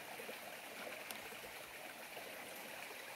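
Spring water stream on a rural farm runs in a steady, continuous trickle and gurgle, close and fairly faint, with no voices over it.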